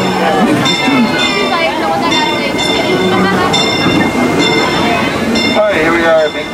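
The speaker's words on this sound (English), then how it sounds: "Please remain seated until the train stops completely." Disneyland Railroad train rolling into Mickey's Toontown Depot and coming to a stop, a steady mechanical rumble with metallic clinks and squeals, continuous and fairly loud under an announcer's voice and crowd chatter.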